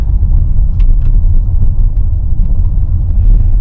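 A 2023 Tesla Model X rolls along a rural Wyoming road at about 23 mph, a loud steady low rumble of tires and road noise without engine sound or talk.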